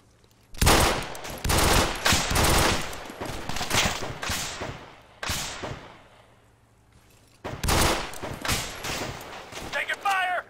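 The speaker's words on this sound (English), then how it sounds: "Taking fire!" Bursts of automatic gunfire ring out in ARMA 3, a Glock 18C firing full auto near a church, with loud rapid volleys, a pause, then more sustained firing and voices calling out between shots.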